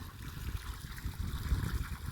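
A thin stream of water pumped from a farm well trickles along a narrow field channel, a quiet, continuous gurgling flow close by.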